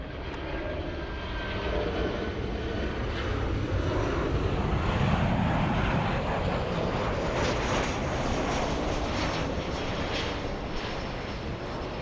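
Delta flight 2114 from Minneapolis coming in at Los Angeles International Airport, a jet engine roar that swells gently and holds steady, moderately distant and alone.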